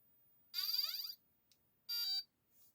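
Two loud electronic beeps in quiet from an RC radio during binding and calibration for an Absima Sherpa kit, the first a longer warbling tone and the second a shorter, steady one.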